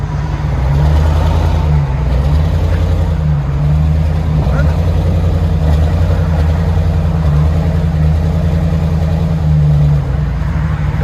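A 2012 GMC Sierra Denali 6.2L V8 fitted with a Carven TR-Series exhaust gives a loud, deep, close engine drone. The tone holds high and sustained with slight wavering for the whole stretch.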